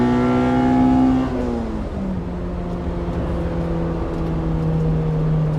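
A Honda Civic Si, a 2000 car with a swapped JDM ITR B18C engine, climbs through the revs until the VTEC switches over, the engine note jumping and then settling into a steady high drone with strong intake noise, loud and close, no voices.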